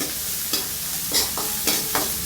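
Onion and green chillies frying in a pan for a chicken white kurma, a steady sizzle broken by several sharp stirring scrapes, close and loud with no talking.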